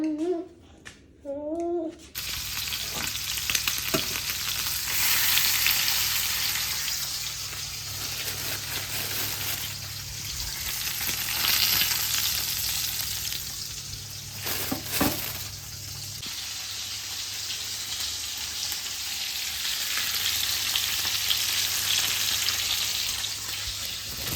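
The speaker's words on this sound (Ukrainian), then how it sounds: "буду зараз обсмажувати з усіх сторін для того, щоб була скоринка." Ribs sizzle steadily in a hot pan for a long stretch, a constant crackling hiss with occasional clinks and brief shifts as pieces are moved.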